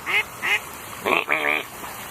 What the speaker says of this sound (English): there's a big duck right there, a goose